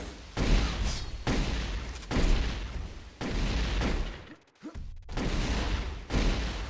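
Plasma rifle in a multiplayer first-person shooter firing in sustained rapid bursts, loud and harsh, with a short gap partway through before firing resumes.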